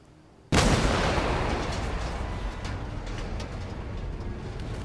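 Explosion in the World War II shooter Medal of Honor: a sudden loud blast erupts after a quiet moment and then rolls on as a long, dense rumble that slowly fades without dying away.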